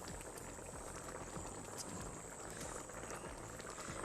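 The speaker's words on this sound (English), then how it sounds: "So now the sauce start boiling" Sauce of coconut cream with curry leaves boiling in a pan, a steady soft bubbling hiss, faint and continuous, with no talk.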